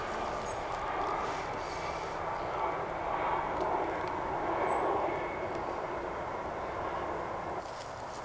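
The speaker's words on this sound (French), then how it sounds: "Il y a un hélico." A distant helicopter drones steadily overhead, a low continuous rumble that swells slightly and fades, with some faint movement nearby.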